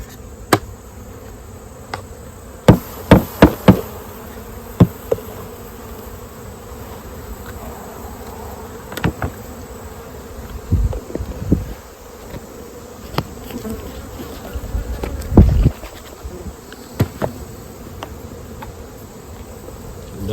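Honeybees at an open hive during a mite check, a constant droning hum at close range broken by scattered knocks and clatters of hive equipment.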